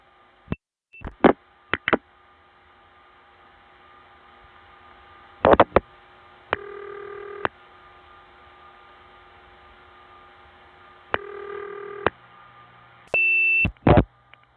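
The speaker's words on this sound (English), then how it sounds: "when I do, you'll hear the distinctive bloop to cloop, which means line link pulsing" Crossbar No. 5 switch dialing out to a PBX, heard on a 1970s long-distance line: bursts of short tones and clicks as line link pulsing, in repeated groups over a steady faint hum, with no talk.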